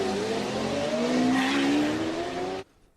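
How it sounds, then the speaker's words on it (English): Supercar engine revving hard in a rising, whining sweep that sounds close and loud for a few seconds, then cuts off abruptly into near silence. "That's such a distinct car,"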